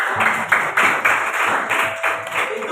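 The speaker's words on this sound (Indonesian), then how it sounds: "Tepuk tangan untuk semuanya." Students in an Indonesian classroom clap together in a short burst of rhythmic applause, steady quick claps close by and fairly loud, with no talking over them.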